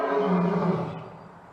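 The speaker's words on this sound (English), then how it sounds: "It's lion." A lion gives one single loud, close roar that swells briefly and then fades away, heard alone without any talk.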